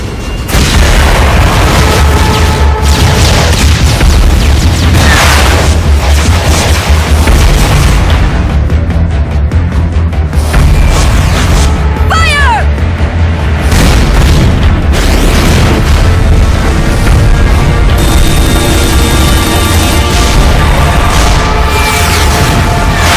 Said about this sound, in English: The enemy's returning fire!